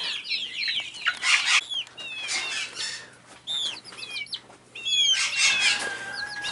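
Chickens cluck and cheep inside a hen house, with several close birds calling in overlapping bursts and occasional wing flaps against a faint steady hum.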